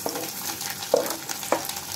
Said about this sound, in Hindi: इसमें डालूंगी लहसुन जो मैंने पहले से ही काट के रख लिया था